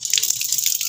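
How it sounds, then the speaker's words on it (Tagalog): Water runs steadily from an opened faucet on a home water system with a newly replaced pressure switch and gauge, giving a close, continuous hiss with small splashy fluctuations. "Yan, nagbukas ako ng gripo."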